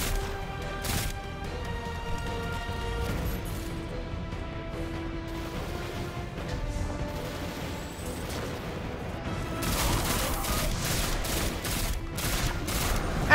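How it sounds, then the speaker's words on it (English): A pulse rifle fires in bursts in Destiny 2, rapid rhythmic shots in dense volleys alongside other gunfire, tonal in-game effects and music, loud and continuous throughout with no voice over it. "Let's try the pulse rifle."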